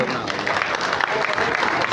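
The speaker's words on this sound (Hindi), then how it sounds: "तालियां बजा दें भाईजान, पहला इनाम।" Audience applause at a prize distribution ceremony, a dense, steady wash of many hands clapping together, moderately loud and continuous throughout.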